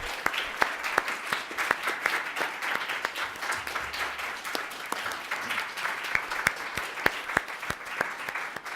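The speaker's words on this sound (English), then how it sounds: "let's give the panel a round of applause" An audience at a policy panel discussion on the child tax credit gives the panelists a steady round of applause, dense, even clapping sustained throughout at moderate loudness with no voices over it.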